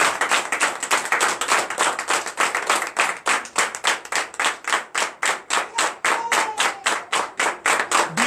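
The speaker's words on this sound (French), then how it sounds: "Donnez encore l'acclamation au Seigneur" Sunday church congregation giving rhythmic acclaim, many hands clapping together in a fast, even beat of crisp, loud claps that holds steady throughout, with no talking on top.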